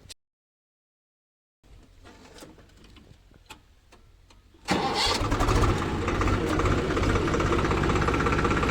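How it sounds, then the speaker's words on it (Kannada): A tractor used for harrowing in an arecanut plantation starts up. After a brief silence a starter cranks for about three seconds, then the engine catches and settles into a loud, steady idle rumble nearby. "ಟ್ರ್ಯಾಕ್ಟರ್"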